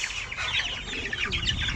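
Chicks and hens cluck and chirp close by in a farmyard during rain, a busy overlapping run of short calls with no speech.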